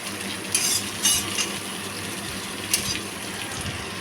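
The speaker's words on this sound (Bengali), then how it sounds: "পেঁয়াজগুলো ভালো করে নাড়িয়ে চাড়িয়ে নিচ্ছি" Onions sizzle in leftover hot oil for chilli chicken while a spatula stirs them, a steady close frying hiss broken by several sharp scraping clicks against the pan.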